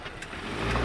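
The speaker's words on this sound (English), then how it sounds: "So here you see the car slams the brake all the way down to 0." A car brakes hard from 80 km/h on a wet test track during a tyre comparison of the Continental SportContact 7 and Pirelli P Zero PZ5, giving a steady, close engine and road rumble that swells slightly louder, with no talk.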